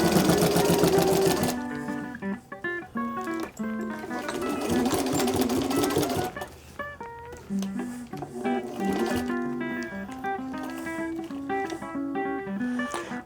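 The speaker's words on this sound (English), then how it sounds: "Got a little bit of the zipper catching on the sewing machine here," A sewing machine stitches boat-top canvas in rapid mechanical bursts, with rhythmic whirring and clicking, stopping and starting several times.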